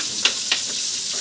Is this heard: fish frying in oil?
yes